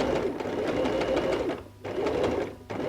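A sewing machine stitches around the neckline of a stretch-fabric T-shirt, running in steady, close bursts with two short pauses before resuming.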